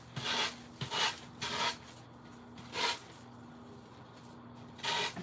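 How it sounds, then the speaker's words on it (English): A handheld sander rasps over a door hanger, taking off excess napkin or tissue paper in repeated back-and-forth strokes. The passes are close and scratchy and swell in bursts over a steady low motor hum. "I use my sander to remove it. Just sand down this way."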